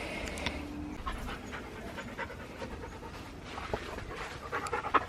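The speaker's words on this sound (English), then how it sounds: "These silly doggies." Dogs panting in a suburban backyard garden, a steady run of quick breaths close by with light rustling and a few sharper sounds near the end.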